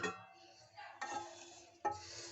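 Lid coming off a pot of spicy suji upma: three metallic clinks and scrapes, close and fairly soft, with a faint ringing tone after each.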